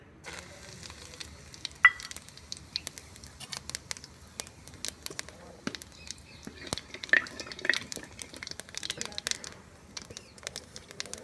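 Cumin seeds and dried fenugreek (kasuri methi) sizzling in hot oil: faint, sparse crackles and tiny pops scattered unevenly over a quiet background for about eleven seconds.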